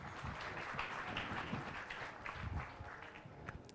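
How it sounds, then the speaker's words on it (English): An audience applauds a pair of gentlemen at a formal media event, a brief wash of steady clapping that fades slightly toward the end. "A round of applause for these gentlemen."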